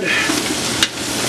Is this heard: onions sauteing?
yes